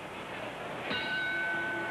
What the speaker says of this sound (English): Joe Louis, balding and bulky, eagerly answers the bell